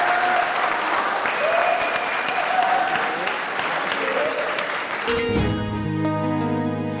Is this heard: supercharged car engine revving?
no